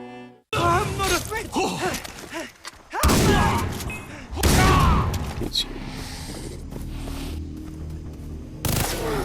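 Gunfire in the video game Far Cry 3, sharp loud bursts and heavy thumping shots in several separate clusters with quieter gaps between them, mixed with game voices.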